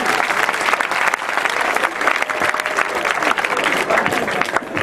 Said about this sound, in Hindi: बेगम जैदी के लिए भरपूर तालियां भाई